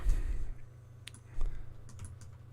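Brief computer-keyboard typing in Blender: a few soft key clicks and taps over low room hum.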